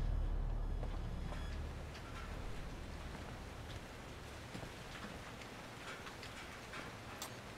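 Steady rain falls in a horror video game where it is raining blood, a soft continuous patter with faint scattered drops, quiet and even throughout with no talking.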